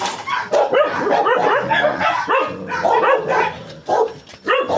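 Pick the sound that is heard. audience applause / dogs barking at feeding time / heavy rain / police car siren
dogs barking at feeding time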